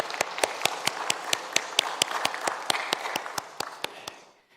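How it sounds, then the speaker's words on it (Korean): Church congregation clapping together after a Sunday service announcement, a steady rhythmic applause of roughly fifteen even beats that fades out at the end. "우리 박수 치겠습니다"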